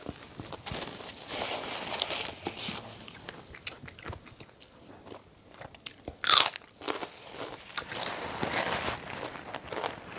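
Someone eating crunchy Lao-style green papaya salad, close crisp bites and chewing crunches repeating steadily, with a brief sharp click partway through.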